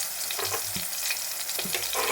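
Fried soya chunks with chili powder and turmeric sizzle steadily in a pan while a spoon stirs them, with a few soft scraping strokes over the constant frying hiss.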